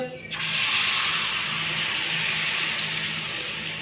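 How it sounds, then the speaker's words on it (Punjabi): Boondi batter hits hot oil for a laddoo batch and sets off a loud, steady frying hiss that swells right after a brief quiet start and holds bright and close throughout. "ਹੁਣ ਆਪਾਂ ਨੇ ਇਹਨੂੰ ਪਾ ਦੇਣਾ ਜੀ ਤੇਲ ਦੇ ਵਿੱਚ"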